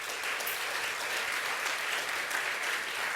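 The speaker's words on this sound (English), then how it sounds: "please round of applause for our panelists today" A conference crowd at a music industry panel gives the panelists a round of applause, heard as an even, sustained wash of clapping at a modest, somewhat distant level.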